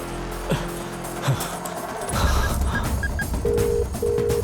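Short electronic beeps from a phone, a few quick tones followed by two longer steady tones, over a low background rumble.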